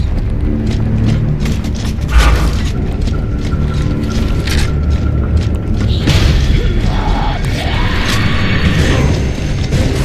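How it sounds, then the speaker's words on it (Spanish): Tremors and explosion rumble in the Gears of War: Judgment DLC: a dense, loud, continuous rumble with heavy booms and clattering mechanical debris throughout. "¡Más temblores de nuevo!"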